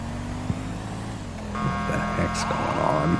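Car traffic in the video game GTA 5, a steady low engine hum of passing vehicles with a few knocks and tonal bursts layered on top, growing slightly louder partway through.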